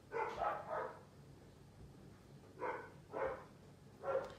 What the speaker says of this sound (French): Voilà, ils sont dehors mes chiens.